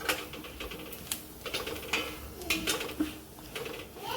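Cluster beans are shifted about on a hot griddle pan, giving soft irregular scraping and light metallic clinks up close, with no talk over them.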